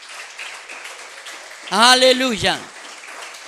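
A church congregation gives a light patter of applause during a sermon, and a loud voice cries out briefly over it midway before the clapping continues softly.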